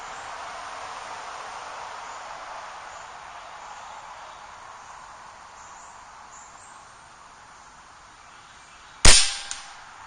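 A single sharp shot from an Air Venturi Avenger .25 air rifle, a near, abrupt crack with a brief decay, preceded by steady quiet outdoor background hiss with insects.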